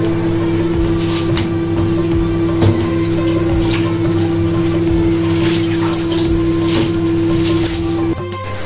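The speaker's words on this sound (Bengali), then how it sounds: "আর ফুপু এখানে আমাকে শাকগুলো ধুয়ে দিতেছে" Tap water runs steadily into a sink as leafy greens are washed by hand, a continuous close splashing rush with a faint steady hum beneath and occasional clinks and rustles of handling.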